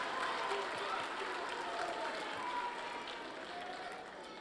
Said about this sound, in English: get on your feet and applaud all your family members for all they have done